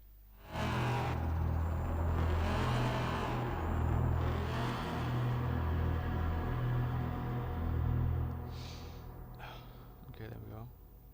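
A car's engine drones steadily in the Night-Runners driving game, holding a loud, even rumble for several seconds before easing off near the end, with a voice speaking over it.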